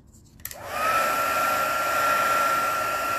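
A heat embossing tool switches on with a click and blows hot air in a steady, close whoosh with a high whine, running on without talk over it.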